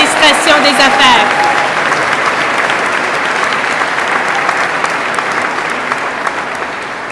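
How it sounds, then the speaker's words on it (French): A large audience applauds business administration graduates at a graduation ceremony, full, sustained clapping that begins loud and eases slightly. An announcer's voice is heard briefly over the opening. "applaudissons encore une fois nos finissantes et nos finissants du programme Administration des affaires"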